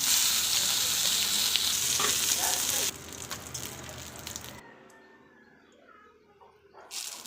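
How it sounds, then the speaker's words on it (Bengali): Bay leaf, garlic, dried chilli and turmeric-coated green bananas hit hot oil in a pan with a loud, steady sizzle that drops off abruptly partway through, leaving faint clatter. "কড়াইতে দিয়ে দিলাম ফোড়নের জন্য তেজপাতা, রসুন, শুকনো লঙ্কা আর মাখিয়ে রাখা তেল হলুদ কলাগুলো।"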